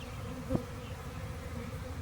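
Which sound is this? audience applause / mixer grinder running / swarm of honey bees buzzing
swarm of honey bees buzzing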